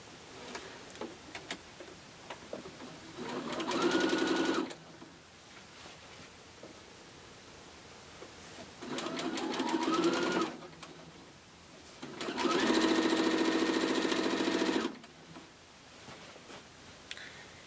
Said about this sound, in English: I can stitch these together for my frames